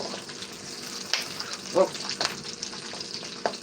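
Shrimp scampi frying in a pan gives a steady hiss of sizzling oil with a few sharper pops and spits. A voice speaks a single word briefly over it.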